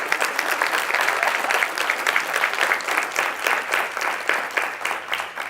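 A conference audience applauds a speaker, a full, steady roll of clapping from many hands filling the room at moderate loudness and tapering slightly at the end.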